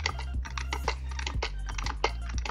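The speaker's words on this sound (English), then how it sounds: "I love how you guys actually love the sound of my keyboard, because I thought that maybe you guys wouldn't like it because it's very noisy" Rapid, clattery keystrokes on a very noisy computer keyboard come in quick irregular bursts, close and crisp, with no talking over them.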